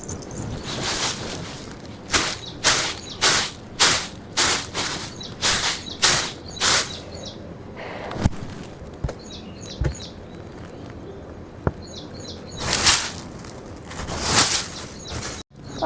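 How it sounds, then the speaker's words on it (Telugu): Birds calling on a cool, rainy-season morning, with bright chirps repeating in close clusters and then thinning to sparse, fainter calls before a final burst of activity. "పక్షులు అయితే చూడండి ఇట్లా మంచిగా మొత్తుకుంటున్నాయి"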